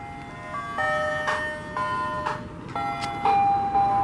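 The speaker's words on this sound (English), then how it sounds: "And I hear an ice cream truck in the background." An ice cream truck plays its jingle somewhere in the background of an outdoor barbecue, a thin electronic melody of short steady tones with a few louder bursts of nearby noise between them.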